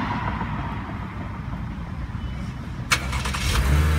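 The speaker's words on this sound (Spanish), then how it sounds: "Y el carro se enciende." A Chevrolet Camaro starts up remotely, a low rumbling engine building beneath a sharp click partway through, then rising to a louder, steady idle close by.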